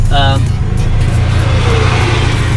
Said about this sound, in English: now we got to get in this thing and drive it.